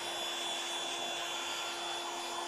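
A leaf blower used to blow bees off honey frames gives a steady, loud blowing roar with a constant whine, running without pause from start to finish.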